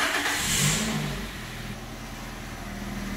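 A Toyota engine with an electronic throttle body fault receives throttle input. A brief rise in engine sound near the start settles back into a steady, moderate running hum instead of revving up, heard close with no talk.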